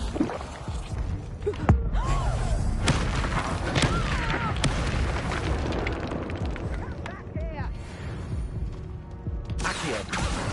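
Fire spells burst in Hogwarts Legacy with booming, crackling blasts that pile up over one another in a loud, chaotic fight, with voices shouting between them.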